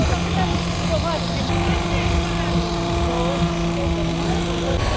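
A Fendt tractor engine runs at a forestry fair in Poland, a steady mechanical hum with a constant tone, while people talk over it nearby.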